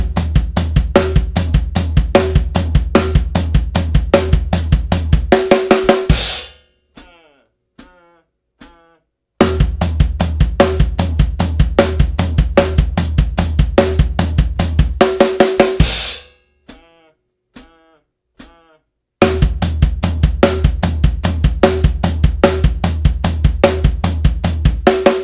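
Steady drum kit groove of unison hand strokes with bass drum filling between, loud and close, repeating in bars broken by short near-silent pauses with a few sparse hits before the pattern returns.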